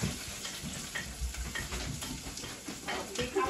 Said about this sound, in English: Onions and garlic are going in right now.